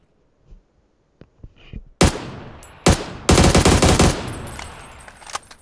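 Gunfire in an online shooter video game: a few faint early pops, then sharp loud shots followed by a rapid, sustained automatic burst that rattles on for over a second before trailing off.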